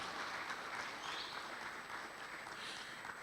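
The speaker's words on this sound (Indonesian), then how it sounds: "Boleh sekali lagi kita berikan tepuk tangan yang meriah untuk Gerakan Pemuda Ansor." A large audience at a launch event applauds a youth movement, a continuous, moderately faint wash of clapping from many people that stays even throughout, with a thin steady high tone above it.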